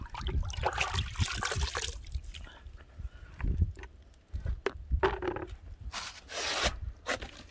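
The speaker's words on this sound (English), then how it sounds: "let's just give it a clean with some warm water" Warm water runs and splashes over chrome in intermittent bursts of pouring and trickling, with pauses between rinses and some handling noise.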